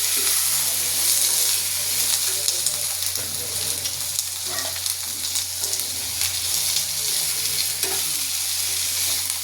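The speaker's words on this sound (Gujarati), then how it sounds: "હવે આપણે તેમાં ગિલોળી સમારેલી એડ કરી દઈશું અને મિક્સ કરી દઈશું" Chopped ivy gourd (tindora) being stirred into a hot pan with garlic for a Gujarati sabzi, a steady sizzle and frying hiss running throughout with occasional scrapes of the spoon, close and continuous.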